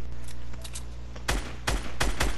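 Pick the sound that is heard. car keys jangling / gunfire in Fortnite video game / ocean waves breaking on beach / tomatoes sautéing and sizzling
gunfire in Fortnite video game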